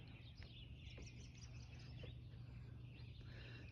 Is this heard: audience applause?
no